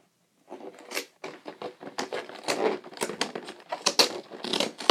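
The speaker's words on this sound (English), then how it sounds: "Just brought a pair of scissors with me." Rapid snipping and crunching as scissors cut through stiff Pokémon Zygarde product packaging, a quick irregular series of close, crisp clicks and rustles.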